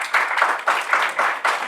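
Brief clapping from an audience at a scientific conference's closing and awards ceremony, coming in quick, pulsing waves of hands for under two seconds.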